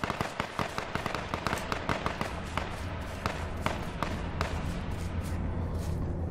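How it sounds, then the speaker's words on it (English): Rapid bursts of gunfire in a video game, dense overlapping shots and thuds loud and continuous against a steady background rumble, with no talk over it. "thank you for somebody shooting at him"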